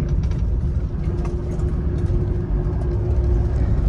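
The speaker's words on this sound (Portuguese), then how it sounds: "Esse motor diesel tem um barulho bem legal de ouvir." Mitsubishi L200 Triton pickup with a diesel engine driving on a dirt road, heard from the cabin as a steady, loud low rumble with a constant hum and light rattles, no talk.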